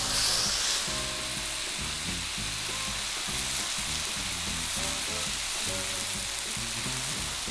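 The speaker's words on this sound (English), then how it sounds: "Now I'm going to get in there and start stir frying." Pieces of chicken sizzling and hissing in a hot pan during stir frying, with rhythmic scraping and stirring strokes over a steady close-up fry.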